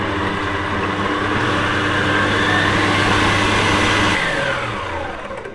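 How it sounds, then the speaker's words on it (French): An electric mixer on third speed whips cake batter for a pear sponge cake, giving a steady, close, continuous whir that holds level and then eases off slightly toward the end, with no talking. "je mets ça en batteur en 3e vitesse pour que ça monte bien"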